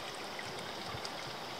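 Water flowing freely from an underground well into a concrete trough in a Nevada valley, a soft continuous trickle and gurgle, fairly faint and steady.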